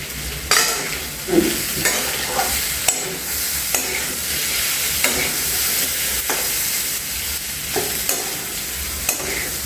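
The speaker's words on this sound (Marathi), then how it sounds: "बघा हा बटाटा आपला परतून घ्यायचा आहे" Potatoes sautéing with salt in a pan for a fasting meal, a steady close sizzle broken by spaced scraping stirs of the spatula, with no voices.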